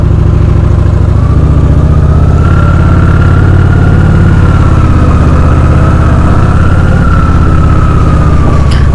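Honda Shadow RS motorcycle engine on the move, a loud, close, steady low rumble with a faint rising and falling whine as the bike cruises, no talking.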